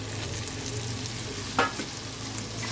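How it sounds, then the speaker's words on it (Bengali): Pieces of goat fat drop into oily, cooked-down masala for ghugni, giving a soft continuous sizzle with one brief clatter partway through. "এবার চর্বিগুলো দিয়ে দিচ্ছি।"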